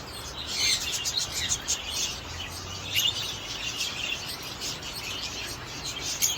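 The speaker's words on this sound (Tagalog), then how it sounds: "Ito po yung mga ibang ibon natin, mga zebra finches." Small caged zebra finches chirping in an aviary or bird-keeping setting, a steady mix of faint high tweets and calls over continuous background noise, no talking.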